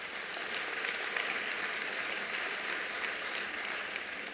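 Steady applause from a large audience at a ministerial announcement of national exam results, dense continuous clapping lasting the whole stretch with no voices over it.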